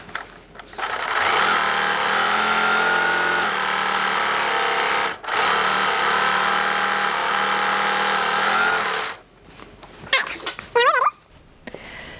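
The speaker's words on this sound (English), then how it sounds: "I'm going to just serge my inside edge real quick" A serger runs in one long steady whir along the inside edge of a denim shirt, briefly pausing midway before resuming, then stopping with a few clicks and fabric handling sounds at the end.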